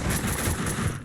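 Rapid gunfire from the video game Max Payne 2 rattles in a dense, continuous burst, heard fairly close and steady throughout.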